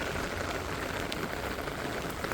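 Rain falls steadily on surfaces outdoors among pine trees, a dense, even patter close by with no voices.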